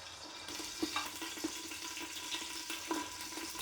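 Onions fry lightly in coconut oil for a pulav, giving a steady, soft sizzle throughout with a few faint stirring knocks.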